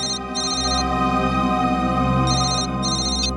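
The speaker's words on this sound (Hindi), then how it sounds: "मोबाइल कंपनी से फोन था।" A mobile phone ringtone plays loudly alone, a bright repeating electronic melody in two bursts with a short gap between them.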